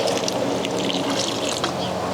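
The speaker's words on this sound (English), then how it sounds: "And now just to water again." Water poured onto the soil around a fig tree, a steady close splashing and trickling that runs continuously without pause.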